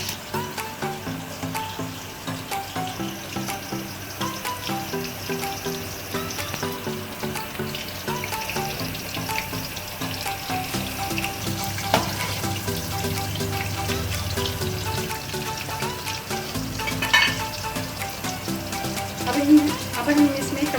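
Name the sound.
stuffed bitter gourds frying in a pan over medium heat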